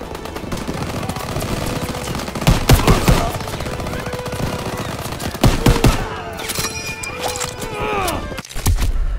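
Rapid bursts of machine gun fire crackle repeatedly amid chaotic battle noise in Call of Duty: WW2, with horse whinnies and shouting mixed in.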